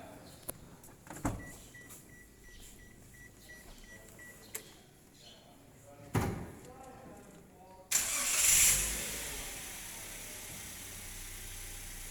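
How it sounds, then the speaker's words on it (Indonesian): A car engine cranks and catches with a sharp burst, then settles into a steady idle to warm up before emission testing, following a few clicks and a faint whine; the running engine continues evenly to the end. "langkah pertama adalah kita hidupkan kendaraan untuk pemanasan atau dipanaskan"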